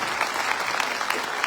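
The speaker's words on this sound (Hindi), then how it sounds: "उनके लिए भी जोरदार तालियां चाहूंगा आपकी" Dense audience clapping at a Punjab business meeting, thanking the Royal India Vacation team: steady, even applause from a large crowd through the whole short stretch, with no pauses.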